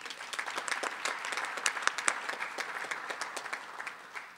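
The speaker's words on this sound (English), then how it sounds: "Please join me in offering an appreciative round of applause" A modest room of listeners at a civic club forum claps in a round of applause, the individual claps fairly distinct and moderately soft, tapering slightly toward the end.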